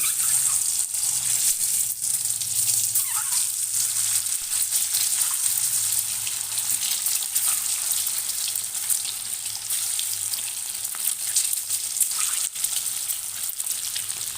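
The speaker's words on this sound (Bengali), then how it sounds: "এইটা ডিমগুলো আমি লাল লাল করে ভেজে তুলে নেব" Boiled eggs coated in turmeric fry in hot oil on a low flame, giving a steady, loud, close crackling sizzle with tiny pops throughout.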